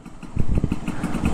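A Yamaha RX King two-stroke motorcycle engine with porting work putters close by in uneven, choppy bursts, its rough idle and blips loud and brief.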